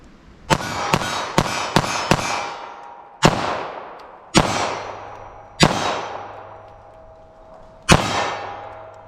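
Nine .380 pistol shots ring off a steel target: a quick burst of five sharp metallic clangs followed by four more spaced shots, each with a bright ringing decay, loud and close with no talking.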